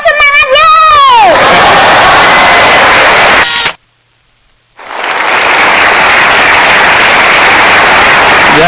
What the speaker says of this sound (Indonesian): Tepuk tangan semangat yuk.